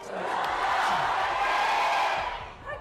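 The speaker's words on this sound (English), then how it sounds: "Oh my god, the crowd is so loud today." A crowd roars steadily at an OWCS Korea Stage 2 Overwatch esports group-stage match between Old Ocean and Team Falcons, a dense, sustained wash of cheering from a large audience.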